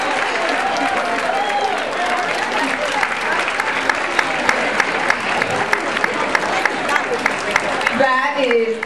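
Sustained applause and cheering from a crowd at a fashion show, dense steady clapping with voices mixed in, continuing for several seconds before a speaker's voice rises at the end.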